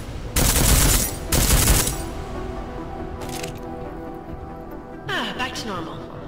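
Gunfire at shooting range targets in Deus Ex: Mankind Divided, two loud close bursts of rapid shots early on, then a fainter crack and a brief final volley over a low hum.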